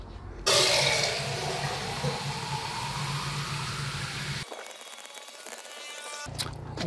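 Water splashes and gushes steadily onto newly planted garden flowers, close and continuous for several seconds, then briefly cuts out before resuming.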